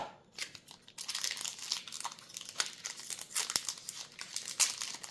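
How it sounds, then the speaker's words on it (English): A Magic: The Gathering Lost Caverns of Ixalan collector booster pack being torn open, with close, quiet crinkling of the foil wrapper and sharp little tearing bursts throughout. "opening these packs of collector boosters, it's way easier to open from the bottom"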